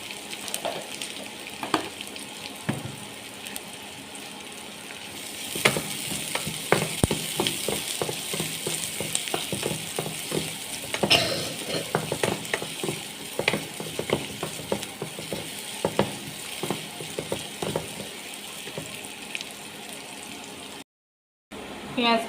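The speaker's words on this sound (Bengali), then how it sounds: "তেল গরম হয়ে গেছে, এখানে আমি আধা কাপ পরিমাণ পেঁয়াজ দিয়ে দিলাম।" Half a cup of onions fries in hot oil for a dried fish recipe, with a steady sizzle and repeated clattering stirring against the pan that continues for a long stretch before a brief silent gap.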